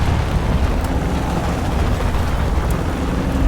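Artillery strike explosions in the tank game War Thunder make a dense, continuous low rumble and roar, loud and close, with no separate blasts standing out.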